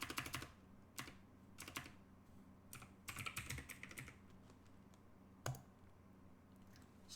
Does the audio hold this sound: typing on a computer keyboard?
yes